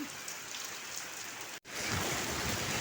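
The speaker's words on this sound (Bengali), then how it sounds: "বৃষ্টি পড়তেছে" Light rain falls outdoors on a wet morning, a steady, even hiss of drops throughout with a brief break just past the middle.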